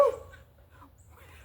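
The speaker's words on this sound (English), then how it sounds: "Nothing like a hound dog in your video" A hound dog gives a single short, sharp bark at the start, followed by a quiet room with faint background noise.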